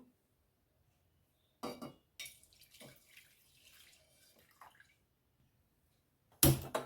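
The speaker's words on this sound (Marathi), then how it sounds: "आपण या भांड्यामध्ये हे दोन ग्लास दूध घेऊया" Two glasses of milk are poured into a cooking pot while making bread custard: a sharp clink of glass on metal, a soft trickling pour, then another loud clink at the end.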